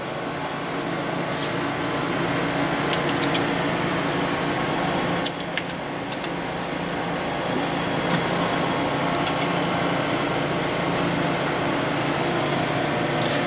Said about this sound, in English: So the machine now is initializing. It's just going to all of its end stops and checking everything is working correctly.